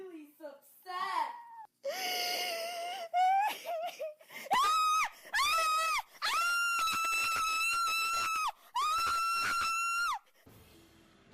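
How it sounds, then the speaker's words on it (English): A woman sobbing, then screaming in long, loud, repeated wails while being beaten by her daughter, with high-pitched cries that rise and hold, each broken by short gasps, close and harsh. "Sobbing followed by horrific screams."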